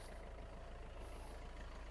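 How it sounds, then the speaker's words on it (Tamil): Diesel engine of a Maruti Ertiga seven-seater car idling steadily and smoothly, a continuous low rumble close by with no speech over it. "ஒரு டீசல் வண்டி. வண்டி இப்போ வந்து நமக்கு ஓடிட்டு தான் இருக்குது. இன்ஜின் சவுண்டு பாருங்கள், அவ்வளோ ஸ்மூத்தாக இருக்குது நமக்கு."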